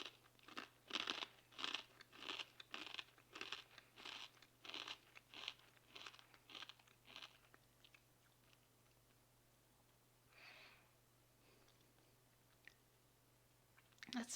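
Crunchy barbecue corn nuggets from a 2021 American military MRE ration being chewed close up, a fast run of loud brittle crunches that slows and fades, with a lone crunch later.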